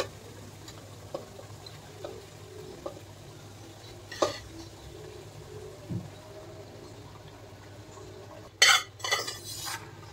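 Cooked rice is tipped into egg masala in a pan and stirred, giving soft scraping and occasional clinks of a spoon against the pan, with a sharper clatter of utensils near the end.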